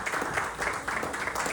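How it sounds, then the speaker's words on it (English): A dance audience claps for couples about to perform a cha-cha-cha, a dense, brisk burst of applause close by that pulses in quick waves throughout the short moment. "Let's keep the applause going, ladies and gentlemen"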